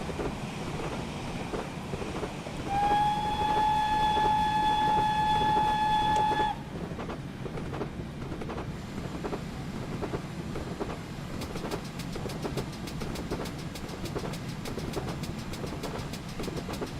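GWR Saint steam locomotive running in Train Simulator: a sustained whistle sounds for a few seconds, then gives way to rhythmic chuffing and clanking of the running engine, with quick regular beats building in the later part.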